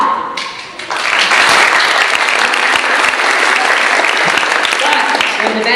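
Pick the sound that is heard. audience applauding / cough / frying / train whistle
audience applauding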